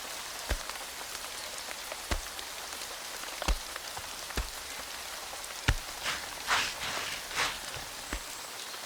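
Daytime rain falls steadily on a surface, a constant close patter broken by a few louder, sharper drips and thuds at irregular moments, with no voices.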